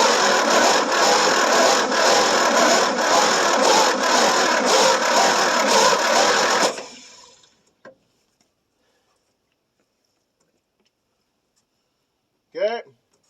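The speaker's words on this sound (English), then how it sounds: "So hopefully this will be a first start in I don't know how many years. Now go ahead and crank on it and see what happens." A 1973 Ford F100 pickup with a 390 FE V8, unstarted for about thirty years, cranks loudly and steadily for several seconds close by, then cuts off into near silence with a couple of faint knocks and a brief voice.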